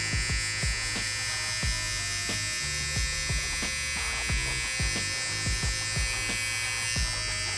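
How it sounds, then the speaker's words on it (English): A T-liner trimmer buzzes steadily and close up while flicking up hair during a slick back and skin fade cut, with repeated short clipping strokes over the constant motor hum. "I'm gonna bring back the T-liner and flick up just a little bit"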